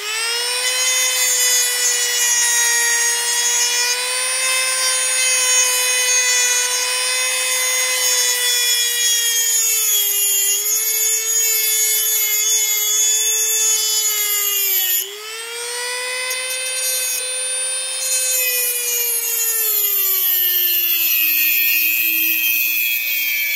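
A Dremel rotary tool grinds a potentiometer clamped in vice grips during repair of a 1963 RCA 19-inch black-and-white vacuum tube television, giving a loud, steady high-pitched whine with slight pitch dips under load, no talking.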